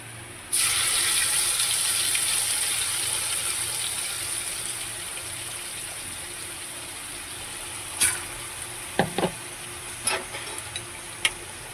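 Ground masala is dropped into hot oil with browned garlic in a pan for a Konkani-style prawn curry, giving a sudden loud sizzling hiss that fades slowly, followed by a few sharp clinks near the end.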